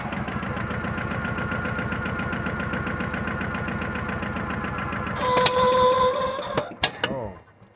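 A John Deere 650 tractor in four-wheel drive low range works a DIY dump bucket, its engine chugging in a steady rhythmic pulse that strains louder under load, then sputters and stalls.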